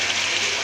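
Water pours into a cooking pot of vegetables for Cebu-style menudo, a steady broadband splashing gush heard up close for under a second, with no talk over it.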